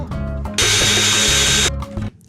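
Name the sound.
power drill running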